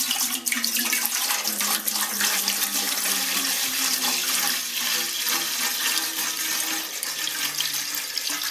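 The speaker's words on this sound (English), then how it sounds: "Going to start off by putting in the first gallon of water here." The first gallon of water is poured into a brewing pot at the start of a home brew day for an American wheat extract batch, a steady close gushing splash with no talk.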